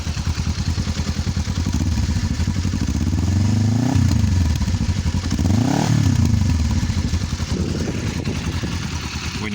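A Kawasaki GPZ 500 motorcycle with a baffled Delkevic 2-into-1 exhaust, idling with a steady burble and revved twice close by, each rev rising and falling smoothly.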